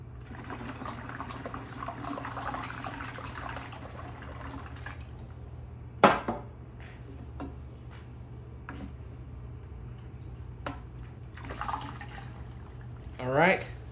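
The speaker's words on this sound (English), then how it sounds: "Now I'm going to take my distilled water," Distilled water poured into a container for mixing antifreeze concentrate into 50/50 coolant, heard as a faint trickle and dribble with a few sharp clinks and splashes over a steady low hum.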